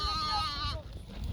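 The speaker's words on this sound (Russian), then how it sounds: "Да, коза давай." A goat bleats once up close, a wavering cry that breaks off abruptly, with outdoor woodland ambience behind it.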